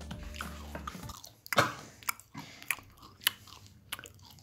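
Crunchy Japanese potato chips chewed close to the mic, giving sharp irregular bites and crackling crunches with a quiet pause between, and no talking.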